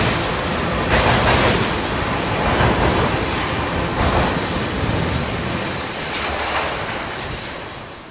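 A Canadian Pacific train rumbles past close by, a loud steady roar with rhythmic clacking of wheels over rail joints, slowly fading toward the end.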